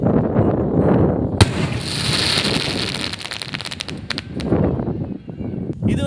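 A Sivakasi firework shell bursts with one sharp, loud bang, followed by a long scatter of crackling pops against wind noise.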